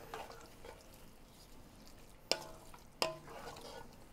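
A mirliton stuffing with shrimp stock cooks down in a pan with a faint, soft sizzle and bubbling. Two sharp clinks of a utensil against the pan stand out near the end.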